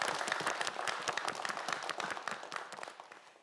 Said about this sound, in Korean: 조수빈 학생과 정은주 학생에게도 여러분 큰 박수 부탁드립니다